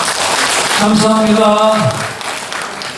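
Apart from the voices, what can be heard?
congregation applause in church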